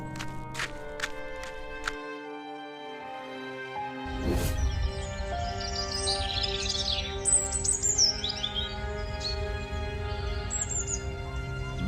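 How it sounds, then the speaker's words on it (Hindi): A golden bird in a cage chirps in an animated Hindi story, with light high tweets scattered over a soft musical backing, moderately close and fairly faint. "लेकिन सुनहरी चिड़िया तो अपने पिंजरे में बैठे रो रही थी"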